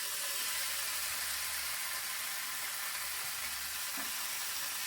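Dry cured bacon sizzling on a Blackstone 22-inch E-Series electric grill, a dense, even crackling hiss that holds steady throughout, close and alone, with one faint knock near the end.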